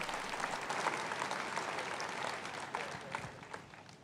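A church congregation applauds together, a broad continuous clapping that holds steady and thins slightly toward the end, with a few sharper individual claps standing out and no speech over it.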